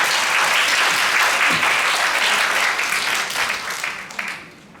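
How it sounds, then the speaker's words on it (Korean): An audience at a youth leaders' launch ceremony applauds as a speaker is welcomed onto the stage. Dense, sustained clapping fills the hall, then thins out and fades toward the end. "처장님을 큰 박수와 함께 무대 위로 모시겠습니다."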